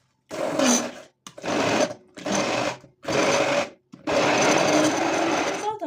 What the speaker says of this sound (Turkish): Sos malzemelerini blenderdan geçiriyorum.